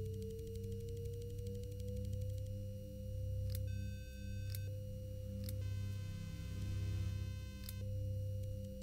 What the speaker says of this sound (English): I like the sine wave like it is.